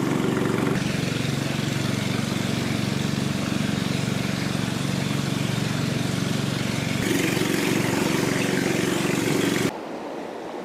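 A boat engine on the Nafakhum river journey drones loudly and steadily at close range, a constant low mechanical hum with water noise that shifts in tone partway through and cuts off abruptly near the end.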